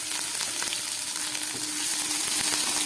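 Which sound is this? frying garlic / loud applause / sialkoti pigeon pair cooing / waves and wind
frying garlic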